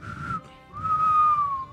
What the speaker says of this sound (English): As I start whistling